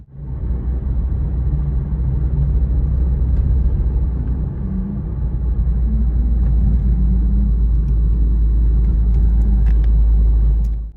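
Car driving past on a São Paulo street, a loud continuous low engine rumble with road noise lasting throughout.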